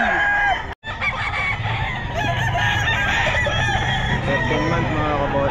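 Rooster crowing repeatedly at a busy pet market, loud and close, with clucking fowl and a crowd murmur running beneath it.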